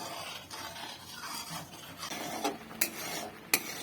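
Rabri, thickened milk, being stirred in a pan, a soft continuous rasping scrape of a spoon along the bottom with a few sharper clinks toward the end, quiet and close.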